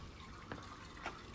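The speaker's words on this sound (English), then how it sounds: "Somebody's got some water coming out of their staircase." Water trickles from a stone staircase on the old bazaar street of Gjirokastër, Albania: a faint, soft flow with two small splashy drips, quiet and close.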